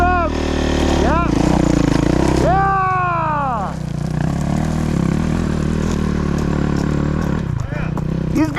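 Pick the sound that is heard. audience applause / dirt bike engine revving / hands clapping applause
dirt bike engine revving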